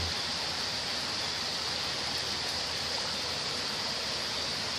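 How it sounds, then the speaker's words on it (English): Steady broadband wash of heavy stormy rain easing off while runoff water keeps flowing away, a constant close hiss with no breaks and no voices. "The rain seems to be easing up, but the water is still flowing away."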